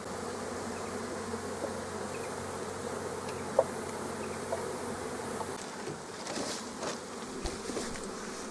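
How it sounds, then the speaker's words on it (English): Honey bees pour out of beehive super frames in a steady close swarm buzz, a continuous drone that stays fairly even throughout. "And you'll see the bees pouring out."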